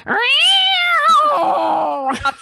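A person imitates a cat's long, drawn-out yowl, close and loud, the pitch rising and then sliding down before breaking off into a short rough end.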